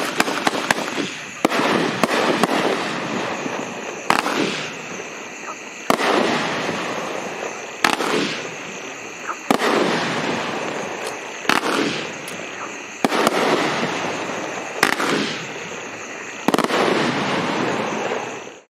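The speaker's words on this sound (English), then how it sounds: "Walk the Plank has a very new design effect. We call it swimming fishes." Walk the Plank fireworks cake with a swimming-fish effect fires repeated loud bursts about every 1.5 to 2 seconds, each sharp launch followed by long crackling, fizzing sparkle that carries through the whole sequence.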